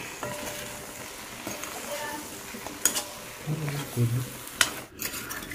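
Chicken curry with Kashmiri chilli being stirred in a pan, giving soft intermittent scrapes and faint sizzling, quiet and close, with a couple of brief clanks toward the end.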